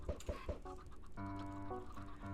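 Chickens cluck repeatedly in Minecraft, a quick run of short clucks followed by steadier, slightly nasal squawks, close and fairly faint, with no talk.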